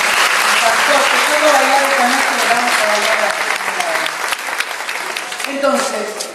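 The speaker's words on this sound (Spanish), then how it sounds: "aplauso para los participantes." Audience applause for participants at a talk, loud and sustained dense clapping throughout, with a voice speaking over it in the latter half as the clapping begins to thin.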